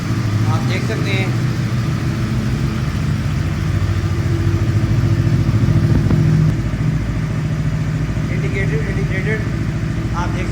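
Standing on a paddock stand on a cold day, a Yamaha R1 motorcycle idles with a steady, close, low-pitched engine rumble and light mechanical clatter, nearly constant from start to finish.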